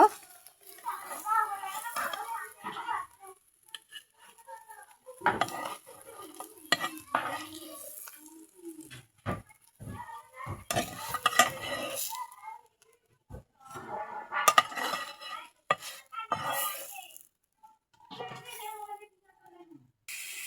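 Small-fish and bottle gourd leaf parcels cook in a pan, with soft sizzling, stirring and clinks of pots and utensils coming in bursts while people and children talk nearby.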